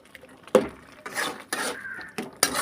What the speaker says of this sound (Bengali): দিয়ে ভালো করে নাড়াচাড়া করে একটু ঘেটে ঘেটে দেবো।